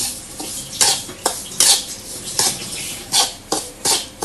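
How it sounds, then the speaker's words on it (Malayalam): Semolina roasting in a pan while being stirred, with a soft steady hiss underneath and a series of sharp scrapes and clinks from the utensil against the pan, close and fairly loud, about eight strokes in four seconds. "നമ്മൾ വറുക്കുന്ന സമയത്ത് നല്ല ആവി പൊന്തുന്ന സമയത്ത് നമ്മളിങ്ങനെ വറുത്തുകൊണ്ട് ഇങ്ങനെ നിൽക്കണം"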